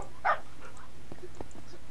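A tamed wolf puppy in the Minecraft video game gives a single short, high yip near the start, followed by faint game sounds.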